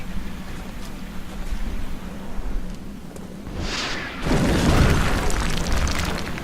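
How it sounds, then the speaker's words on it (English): A rocket is fired and explodes in the video game XCOM Long War: a rising whoosh gives way to a loud, rumbling blast that sustains over steady game background noise. "Firing rocket."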